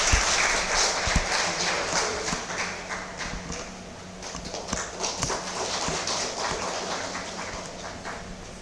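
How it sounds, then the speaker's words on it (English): Scattered clapping from an audience at a literature and translation conference, ringing out as a certificate recipient comes forward, steady and moderately loud over a room hum with a few sharper claps standing out. "A big round of applause for Sai."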